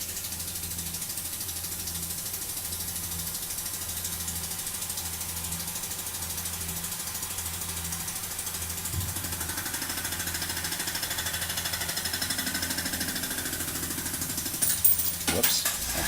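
A milling machine takes shallow passes across the top face of a quarter coin, giving a steady, close mechanical chatter and whir that thickens slightly near the end with a few sharper clicks.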